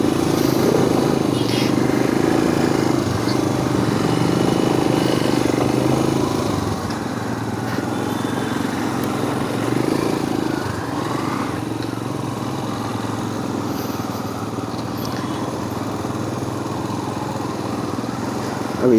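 A motorcycle engine runs steadily up close on a muddy path, a low continuous drone that is heavier at first and then settles into a quieter, even hum.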